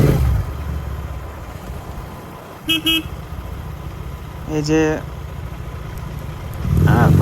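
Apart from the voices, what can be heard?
GT650 motorcycle engine while riding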